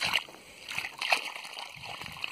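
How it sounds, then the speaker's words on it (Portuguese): Water is poured into a planting hole to soak the soil around a newly planted dwarf coconut seedling, giving a steady close slosh and splash with gurgling over about two seconds and no voices. "Tem que jogar bastante água."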